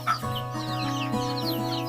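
Chickens cluck and chatter close by in a busy feeding flock, short rising calls overlapping continuously over a steady background hum.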